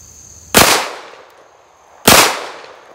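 Two sharp, loud pistol shots from a Heckler & Koch VP9 loaded from an ETS magazine, about one and a half seconds apart, each with a short decaying echo.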